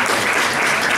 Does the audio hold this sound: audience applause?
yes